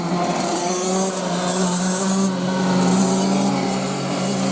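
Racing karts move off together on a formation lap at an open kart final, their small engines blending into a steady, moderately loud buzzing drone with slight rising and falling revs and no voices.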